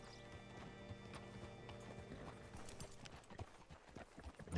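Horse hooves in the game Red Dead Redemption 2, a rhythmic clip-clop of a horse walking on a dirt road, fairly close and steady, under a low background of ambient music tones and faint game sounds.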